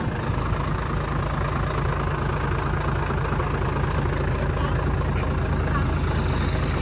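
A steady, low engine drone from a Kubota L50 tractor grading a dirt road, running continuously at close range, with a rumbling idle throughout and no pauses.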